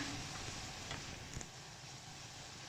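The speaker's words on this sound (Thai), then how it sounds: "ผัดไปจนมะเขือเทศสุกเลยนะคะ" Minced pork and small diced tomato sizzle steadily in a hot pan while being stir-fried, with a faint scrape of stirring partway through.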